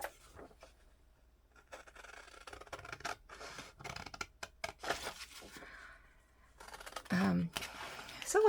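Scissors snip around a worn, battered item in a few short, close cutting strokes with rustling handling sounds between, ending in louder scraping near the end.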